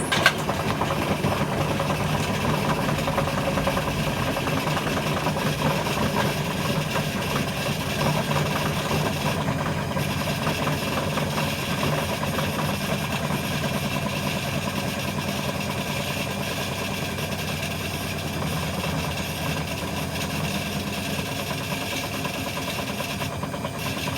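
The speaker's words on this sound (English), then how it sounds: "I've hotwired it for maximum speed, and I'm going to plug it in and see if it starts going on fire" A hotwired Hoover HNL2126 washing machine running flat out at maximum speed, a steady loud motor drone with vibration and rattle that holds constant throughout, with no voices.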